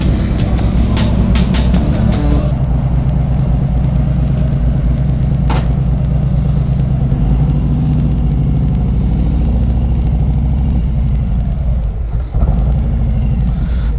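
A 2017 Harley-Davidson Street Glide Special motorcycle rumbles continuously with a deep, loud, steady engine drone, mixed with road and wind noise while riding.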